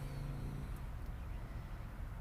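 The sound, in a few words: distant road traffic heard through open car window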